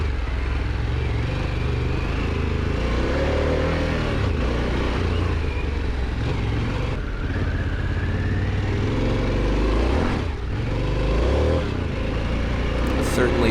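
Adventure motorcycle engine revs hard while the rear tire spins on loose ground, a loud continuous roar rising and falling in pitch with wind noise, and a rider speaks over it.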